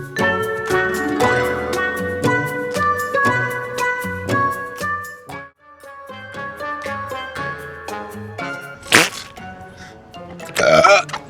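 A loud, rough belch bursts out near the end, following long stretches of a voice talking and groaning.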